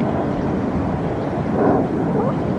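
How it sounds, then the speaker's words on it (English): Airplanes pass overhead in the sky above New York during the September 11 attacks, heard as a broad, steady, distant rumble mixed with wind noise that swells slightly near the end. "Hear all those planes overhead."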